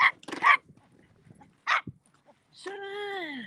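A dog barks in short, loud bursts close by, then lets out a sustained rising-and-falling whine, with a voice around it.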